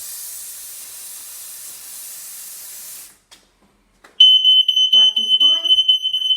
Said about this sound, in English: So smoke alarm is located in the living room